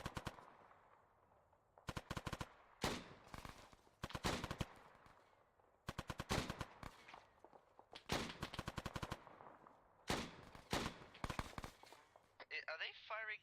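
Video game gunfire in a military mission, repeated bursts of automatic weapon fire in sharp loud volleys separated by short pauses, close and punchy, with brief electronic chirps near the end.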